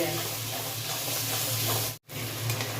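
Onion paste stir-fried in a pan for Bengali prawn malai curry, sizzling and frying steadily with stirring scrapes, close and loud, broken by a brief silent gap near the end.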